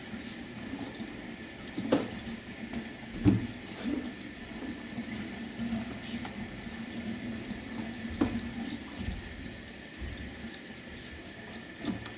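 Cold water runs through a sewer pipe during a camera inspection in Berlin, New Hampshire, on a 21-degree day. It flows steadily and gurgles like a faucet, with a few soft knocks and splashes.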